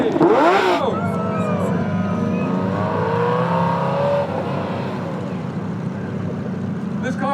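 A Ferrari V8 sports car roars past at a demonstration at Brands Hatch circuit, rising then falling pitch, loud and close, over crowd noise and cheering.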